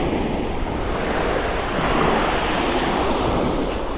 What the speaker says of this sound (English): I don't understand where these waves are coming from.